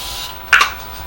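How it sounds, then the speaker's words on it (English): Morphe setting spray gives one short pump-spray hiss onto a face, close and brief, over quiet room tone. "I know it's a setting spray, but I just like to put it on before."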